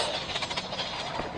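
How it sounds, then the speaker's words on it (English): A toy Thomas train approaches, giving a steady, close rattling clatter with fluctuating rumble and no voices over it. "Here comes the train."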